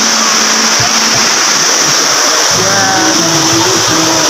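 Steady rushing of the Taludtud River in Majayjay, Laguna, a loud broadband wash of flowing water filling the whole clip, with faint low murmurs of voices underneath.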